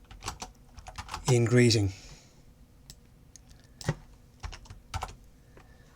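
Computer keyboard keys clacking in short scattered bursts while code is typed, fairly near, with a brief spoken word partway through.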